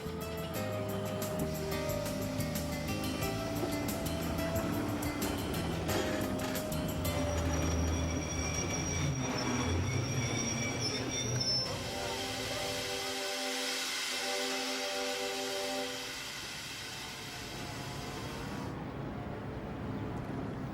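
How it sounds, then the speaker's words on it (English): A train rumbles steadily along with tonal hums and shifting mechanical tones, then a brighter hiss of braking or air as it slows arriving at Mallaig, Scotland. "the train arrives at Mallaig"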